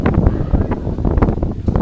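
Strong storm wind gusts across an outdoor football match, loud rough buffeting on the microphone that rises and falls in quick pulses.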